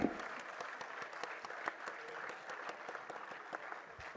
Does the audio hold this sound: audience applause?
yes